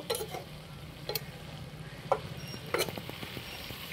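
Cabbage fry with fish head is stirred in a pan, a few sharp scrapes and taps of the utensil over a low, steady sizzle.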